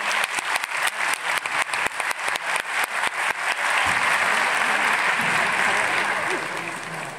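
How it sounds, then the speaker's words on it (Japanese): Audience at the Sagan Tosu new-lineup presentation gives loud applause to the newly signed players, starting as distinct rhythmic claps under an announcer's voice and swelling into a dense, sustained roar of clapping. "改めて並ばれました新加入選手の皆さんにもう一度大きな拍手をお願いいたします。"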